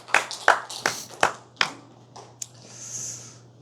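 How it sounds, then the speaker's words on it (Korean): A church congregation gives a short burst of applause during a service, with about five sharp, separate claps in an irregular rhythm, close and fairly loud. A brief ping and a soft hiss follow. "하나님께 영광의 박수 올려드리겠습니다."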